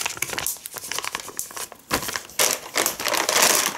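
Plastic crinkles and rustles close up in irregular bursts, growing busier and louder toward the end.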